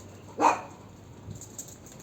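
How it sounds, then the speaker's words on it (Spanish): A single sharp dog bark rings out near the start, followed by quiet background with a faint rustle. "¿Qué está ocurriendo con los perros?"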